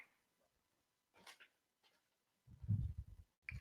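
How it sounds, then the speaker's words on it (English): Pet dog barking and whimpering indoors, a few short faint yelps followed by a louder burst of low barks near the end, heard on its own at low level. "my dog is barking a fucking storm right now"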